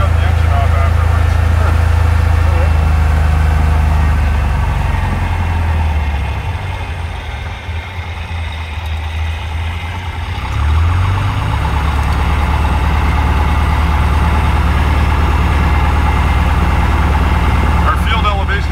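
A small aircraft's piston engine gives a steady, loud drone with a low throbbing hum throughout, dipping briefly in the middle as fuel flow is reduced, before returning to its constant level.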